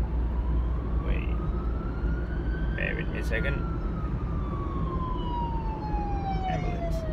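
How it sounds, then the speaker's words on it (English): An ambulance siren wails and sweeps past on a street, rising and then falling in pitch as it goes by, under steady traffic noise while someone speaks briefly. "Ambulance."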